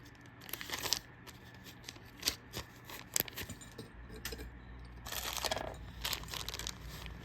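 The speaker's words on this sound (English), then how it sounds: "I'm gonna put it in a plastic bag." A 16-inch gold-tone necklace is slipped into a plastic bag, producing close, bursty crinkling and rustling with a few light metallic jingles of the chain, in quiet surroundings.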